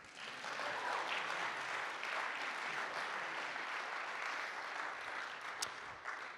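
Audience at a book club mainstage event clapping for a symphony cellist being introduced, a steady, fairly dense round of applause that swells in and fades slightly at the end.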